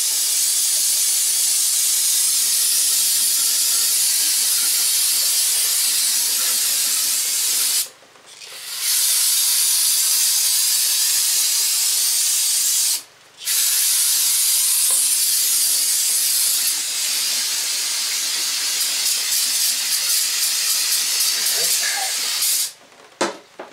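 Pressurized spray hisses steadily while rinsing grime off engine parts from a 2006 Hummer H3 3.5 five-cylinder, loud and close, cutting out in a few brief pauses.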